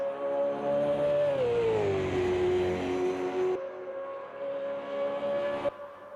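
Super V8 race cars run at Bathurst in a PC racing game, with a sustained engine whine that dips in pitch and then climbs back, broken by abrupt shifts; no voices.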